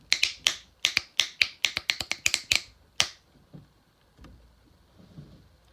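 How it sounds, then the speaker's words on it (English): Crisp finger snaps, about a dozen in a quick uneven run over three seconds, close and sharp, then a few soft faint knocks in near silence. "Try snapping your fingers to communicate."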